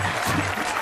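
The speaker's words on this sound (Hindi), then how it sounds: "तालियां बजाओ।" A crowd claps in a film scene at a village gathering with agricultural officials, a brief, loud, dense burst of applause that fills the whole moment.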